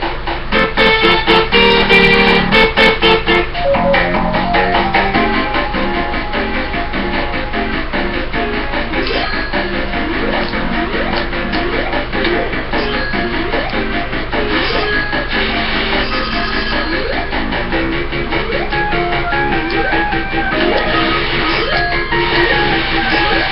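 Sonic the Hedgehog, the original Sega Genesis game, playing on an AtGames Genesis console: a dense, continuous chiptune soundtrack with bright melodic lines and steady beats, loud and even throughout with no voices.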